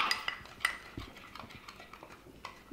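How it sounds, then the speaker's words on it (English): Stirring ingredients for play pizza dough with a toy utensil in a toy pizza oven set gives a string of light clinks and scrapes with sharp ticks at irregular intervals, close by and fairly quiet. "Now let's stir it all up"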